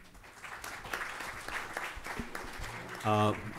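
A panel audience at a discussion about the Dalai Lama claps moderately throughout, with a brief tonal sound near the end over the applause.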